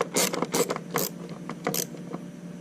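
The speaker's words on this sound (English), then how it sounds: "we will tighten this bolt down here" Ratchet wrench tightening a bolt on a 2014 BMW R1200GS motorcycle during an air filter replacement: quick bursts of mechanical clicking, close and fairly loud, repeating in short irregular strokes.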